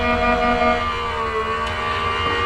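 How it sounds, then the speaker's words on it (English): A steady mechanical whir from an electronic die cutting machine cutting a stamp die, a continuous motor hum with a faint tonal whine, running alone without any talking. "The electronic cutting machines can be a bit loud"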